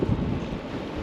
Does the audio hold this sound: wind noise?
yes